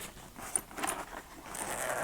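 Zipper on the outside of a retro computer carrying bag for a Compaq 386 Portable, pulled in a few quick scratchy runs, close and fairly loud, with no talking.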